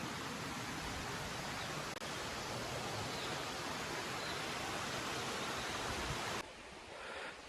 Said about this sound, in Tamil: வாட்டர் ஃபால்ஸோட சவுண்டு அதிகமாக